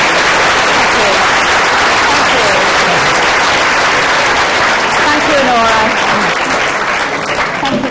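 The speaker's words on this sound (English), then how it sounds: "give them all a huge round of applause" Loud, sustained applause from a large audience at a public debate event fills the space, with a few voices faintly audible beneath the clapping.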